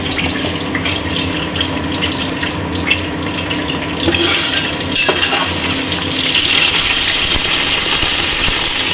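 Bay leaves and whole garam masala frying in hot oil in a home kitchen, a loud, steady, close sizzle that runs on without a break and grows a little brighter and busier toward the end.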